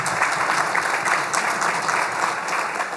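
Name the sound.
audience applause for former chairman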